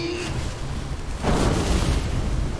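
Fire magic explosion in World of Warcraft, a single loud boom that erupts about halfway through and is followed by a sustained roaring rumble.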